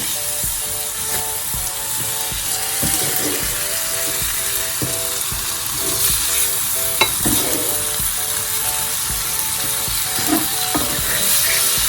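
White sauce thickening in milk with besan and maida, stirred steadily in a pan, giving a continuous soft bubbling sizzle with scraping strokes throughout, close and fairly loud, no voices.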